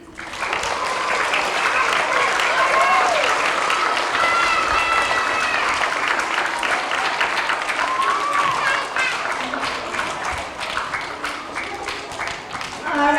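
An audience applauds first graders at a Pre-K to 3rd grade character education assembly, sustained clapping and cheering that fills the room, with children's voices and excited chatter mixed in as it slowly thins toward the end.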